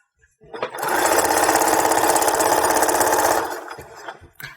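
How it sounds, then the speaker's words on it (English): A sewing machine stitches a straight seam on pajama pants, running steadily for about three seconds with a rapid, close mechanical chatter before slowing to a stop. "just go ahead and sew straight down"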